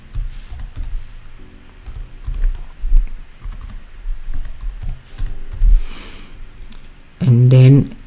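Typing on a computer keyboard while entering text in Inkscape, a run of close, irregular key clicks spread over several seconds, ending with a brief louder noise.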